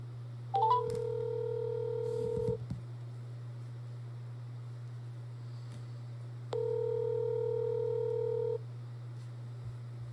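Cell phone dialing out for a call: a steady low dial tone with short keypad beeps, then a long ringback tone twice with a pause between, alone with no talk.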